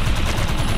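Dense, loud gunfire from the PC game Defiance 2050, a continuous rapid burst that sounds like automatic fire, close and heavy throughout.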